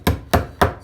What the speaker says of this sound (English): slightly hammer it.